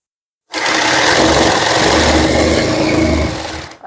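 A sewing machine runs steadily through a seam on a suit, a loud, close, continuous motor whir with fast needle chatter lasting about three seconds before winding down.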